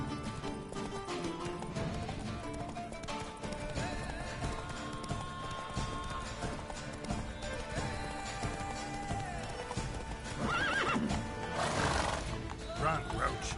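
In the video game The Witcher 3, Geralt's horse Roach gallops with rapid hoofbeats under music and game sounds, a whinny rising near the end.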